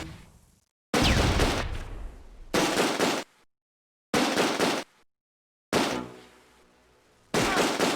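Machine gun fire in the war game Close Combat: A Bridge Too Far, loud bursts of rapid shots in several separate blocks split by abrupt silences, some bursts trailing off into echoing decay.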